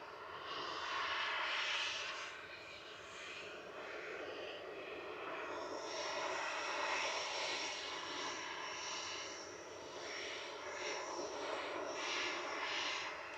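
Jet engines of aircraft taxiing at Manchester Airport, including a Ryanair plane heading out, give a steady, fairly distant roar with slow swells and no talk.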